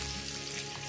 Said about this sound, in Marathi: मोहरी थोडीशी तडतडली की त्यात जिरं, थोडासा चिमूटभर हिंग आणि कढीपत्त्याची पानं टाकायची